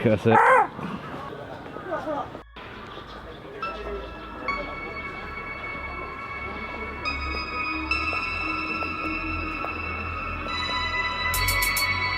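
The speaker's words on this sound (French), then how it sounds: "Et là, il parle avec les corbeaux." Crows cawing in a park in Tokyo, harsh calls heard nearby at the start, followed by a long steady rumble of a passing train with high tonal squeals, and people talking.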